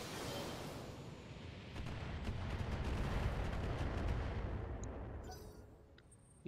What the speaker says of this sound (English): Keep lobbing missiles.